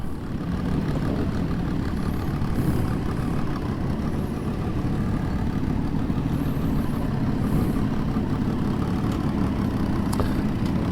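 Several motorcycles idle together as the bikes are lined up for a group photoshoot in Minnesota, a continuous low rumbling drone that stays steady and moderately loud with no talk.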